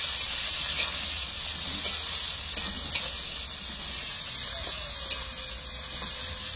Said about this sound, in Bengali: পেঁয়াজটা একটু ভাজা হয়ে যাক